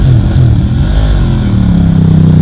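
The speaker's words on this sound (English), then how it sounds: "warms up his bike ready" A sprint racing motorcycle at Hoghton Tower warms up, its engine loud and close, revving and rising in pitch over a rough rumbling idle.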